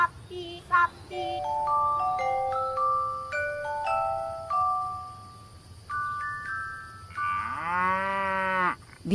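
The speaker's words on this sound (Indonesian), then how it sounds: "Sapinya besar-besar ya." Big cattle let out a long, loud moo near the end, after a run of held musical tones and bell-like chimes, with no talk.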